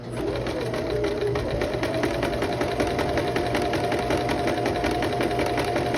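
Sewing machine stitching forward without backstitching along a dress skirt seam, running continuously and steadily at close range for the whole stretch, with no talk over it.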